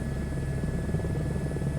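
A helicopter in Microsoft Flight Simulator gives off a steady, fairly quiet droning hum with a faint rotor throb, unchanging across a short stretch and with no speech.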